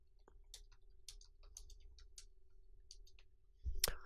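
Light, scattered clicks of typing on a computer keyboard while working in MS Excel, soft and close, with a brief louder knock near the end.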